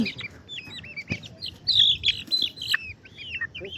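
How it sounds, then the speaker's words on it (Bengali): Young Aseel fighter chicken chicks give a busy stream of high, rising and falling peeping chirps and clucks, close by and overlapping, with a few soft thumps beneath. "এগুলো হচ্ছে আঁচিল ফাইটার মুরগির বাচ্চা এই যে দেখেন এরা শুধু ফাইট করে"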